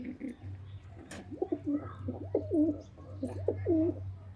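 Pigeons coo softly in a loft where new chicks have just hatched, a series of low throaty coos and a few faint chirps under a steady low hum.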